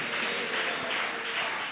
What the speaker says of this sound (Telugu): నమ్మిన వారు చప్పట్లు కొట్టి గట్టిగా స్తోత్రం చెప్పండి